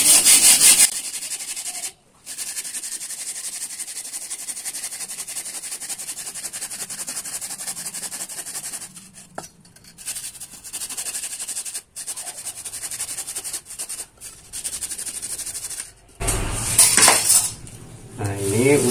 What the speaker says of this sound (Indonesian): kita gergaji lagi, bagi 2.